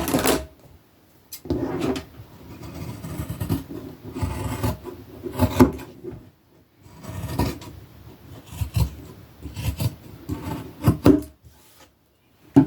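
Scissors cut through stretchy rib knit fabric, repeated close rasping snips in uneven bursts separated by short pauses, with no talking.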